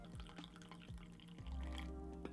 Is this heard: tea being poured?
yes